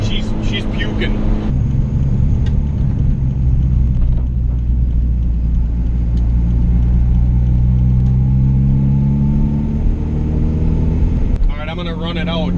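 A turbocharged Honda Integra GSR idles on the street, a loud, steady engine rumble that rises slightly toward the end, with someone talking over it throughout.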